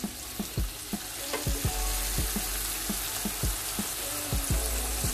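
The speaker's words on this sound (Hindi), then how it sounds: "ये 2 टेबल स्पून सोया सॉस है वो डालेंगे।" Chilli chicken sizzles and fries hard in a pan as soy sauce goes in, with a loud continuous crackle broken by a series of sharp scraping and stirring knocks at an irregular rhythm, and no talking.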